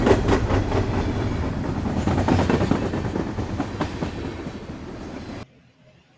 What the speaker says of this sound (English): Lorna carried her train along the main line